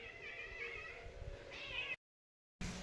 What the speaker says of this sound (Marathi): मला मांजराचा आवाज आला